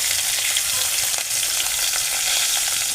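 Turmeric and chopped green chillies frying in a pan make a loud, continuous hissing sizzle, broken by light scraping as a spoon stirs them close up.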